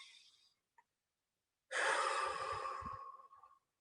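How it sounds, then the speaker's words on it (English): A long, deep breath drawn in or let out during a guided relaxation exercise, heard close and alone after a brief earlier breath, steady and airy before fading out. "let's go ahead and take 3 deep breaths"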